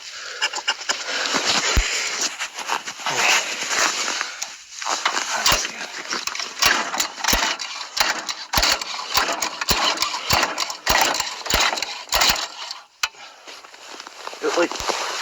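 A lawn tractor engine sputters as it tries to start on half choke, catching briefly and then dying again in a run of ragged, uneven bursts, close and loud throughout.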